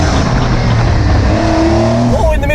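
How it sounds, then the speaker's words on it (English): A 2020 Porsche 911 992 Cabriolet pulls a launch-control start, its engine droning loud and steady from close by with rising tones near the end as it picks up speed, while voices carry faintly underneath. "now I teach you how to do a launch control, but you have to go crazy with the throttle"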